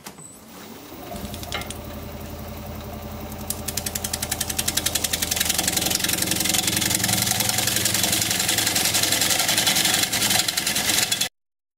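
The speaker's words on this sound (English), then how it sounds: "I think I'll flatten the bottom off with this square carbide cutter" A wood lathe spins up and turns wet redwood against a square carbide cutter, a steady close mechanical whir with a rapid rhythmic chatter that builds and holds before stopping abruptly.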